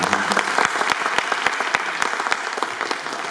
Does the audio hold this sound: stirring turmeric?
no